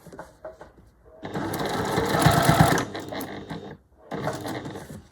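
A Juki semi-industrial straight-stitch sewing machine stitches bunting flags in a close, loud whirring burst of about two seconds, followed by shorter runs separated by pauses and soft handling noises.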